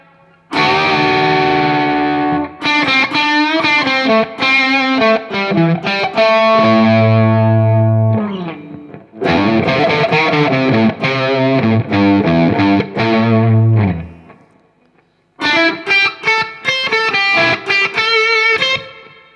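Electric guitar playing blues runs through a Laney Lionheart L20H amp with a driven, distorted tone, phrases of bent notes and sustained chords separated by short pauses, loud and up front.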